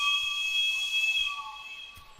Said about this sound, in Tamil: பழைய விசில் செம்புல செஞ்சதாச்சே. சரி, இதை ஊதி பாக்குறேன்.